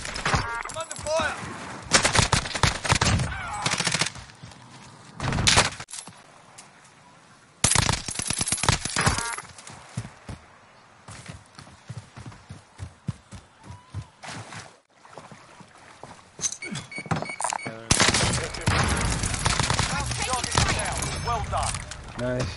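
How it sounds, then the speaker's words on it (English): Call of Duty Warzone firefight with long bursts of rapid automatic gunfire, broken by brief pauses and scattered single shots, loud and close, while players talk over the shooting. "I'm under fire."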